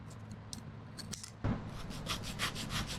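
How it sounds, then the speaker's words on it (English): Scissors cutting paper drawing pieces for a popsicle-stick craft, quiet rhythmic snipping and rubbing close by, with a sharper cut about halfway through followed by repeated light strokes. "Next, I will use scissors to cut them out."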